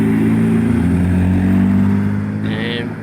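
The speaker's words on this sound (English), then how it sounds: "now we got some BMWs coming up on us" BMW cars come up on the road, a loud steady engine drone that swells and then eases as they pass close by.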